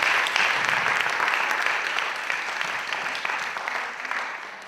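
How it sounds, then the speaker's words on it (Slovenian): Audience applause at an international young dance competition, a steady burst of clapping from a crowd that fills the whole stretch and slowly tapers, heard from a moderate distance without speech. "En aplavz."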